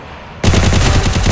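Automatic gunfire in the video game Free Fire, a sudden loud burst of rapid, evenly spaced shots starting after a brief quiet moment, close and continuous.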